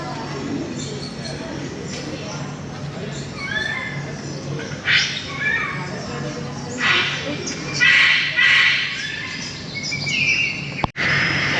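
Birds chirp and squawk at a bird park, with a few bright calls rising over a background of people talking nearby.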